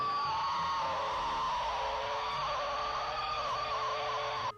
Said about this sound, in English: This children's toy sounds possessed.